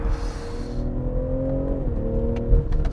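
BMW M340i xDrive Touring, a 2021 model, accelerating again out of a steering turn, its engine note rising in a steady sustained drone with a brief pitch shift partway through, close and fairly loud with no talk.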